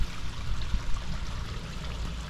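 A small waterfall in a renovated garden pond trickles and splashes steadily, a soft, even patter of falling water heard close.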